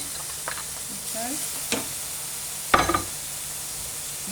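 Peppers and onion sizzle gently in a pan while they are stirred, with a few louder scrapes and clatters over the frying and a brief spoken word.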